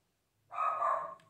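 A dog lets out one drawn-out bark or growl at close range, lasting well under a second after a brief quiet lead-in, with no other sound around it.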